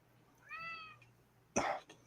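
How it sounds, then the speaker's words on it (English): A house cat meows once, a clear drawn-out cry close by, wanting to be let outside, followed a moment later by a short, harsh burst; no one speaks. "Your cat's ticked off at you. He wants out."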